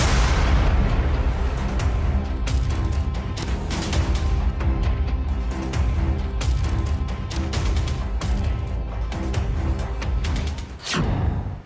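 Artillery fire and explosions from a Russian army assault on Georgia form a dense, continuous barrage of heavy booms and sharp bursts, loud and rumbling throughout.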